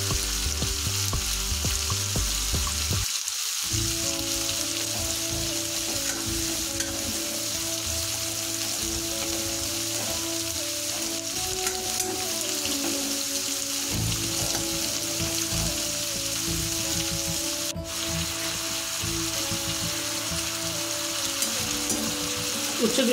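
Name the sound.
bitter gourd frying in oil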